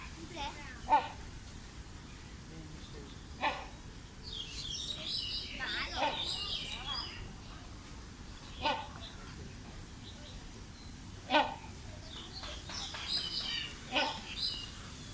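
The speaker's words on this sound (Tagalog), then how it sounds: "nagliliparan na yung mga parrot doon." Parrots in Kowloon Park, Hong Kong, give several sharp chirping calls spread across the clip, moderately distant, over a quiet outdoor background with brief human voices nearby.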